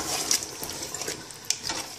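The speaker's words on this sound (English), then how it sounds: "You can hear everything bubbling." Pasta primavera sauce bubbles and sizzles in a pan as it is added to pasta, giving soft wet pops and crackles up close, with no talking.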